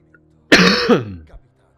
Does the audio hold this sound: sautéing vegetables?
no